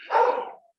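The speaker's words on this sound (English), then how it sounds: "I'm sorry I've got dogs barking now" A single short dog bark, close and fairly loud, cutting off quickly into silence.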